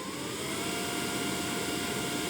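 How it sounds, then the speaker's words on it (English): Makera Z1 CNC cyclone dust collector running steadily, a smooth broadband whoosh with a faint motor hum, moderately loud and constant throughout with no talking. "The cyclone dust collector is surprisingly quiet unless you've got it whacked right up to 11."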